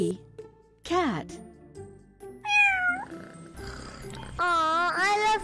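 Cartoonish cat meows sound in a kids' alphabet learning game, several distinct rising and falling mews spread across the stretch, mixed with game sound effects.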